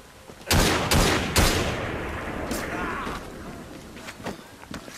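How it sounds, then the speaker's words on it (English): Pistol volley in Assassin's Creed Syndicate: three sharp, loud shots in quick succession fire close by, leaving a crackling rumble of reports that fades into scattered, fainter pops. "Pistols at the ready! Fire!"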